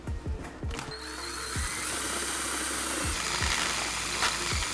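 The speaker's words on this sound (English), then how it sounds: "So let's choose the drill that will be similar size." A power drill whines steadily while boring a hole for a motorcycle tour pack wall mount, with a few sharp clicks and knocks at the start.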